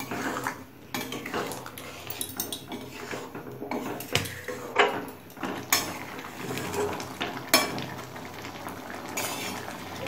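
A spoon scrapes and clinks against a pot while stirring an elephant foot yam and prawn curry with garam masala, a steady run of close metallic knocks and rattles with no talk.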